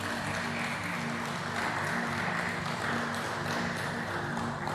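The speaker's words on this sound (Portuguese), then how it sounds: "Pode dar um aplauso para Jesus" Church congregation applauding at the close of a prayer during a service; dense, continuous clapping at a steady moderate level throughout, fairly close, with no pauses.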